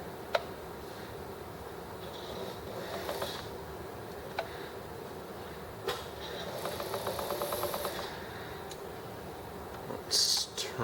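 A sewing machine with a newly fitted belt runs in short quiet bursts, its needle chattering rapidly and stopping between runs, with faint clicks and handling noises around it.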